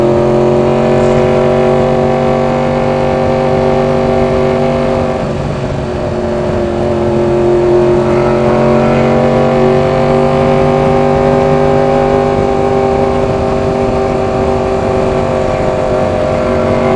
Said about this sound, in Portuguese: minha moto é uma R1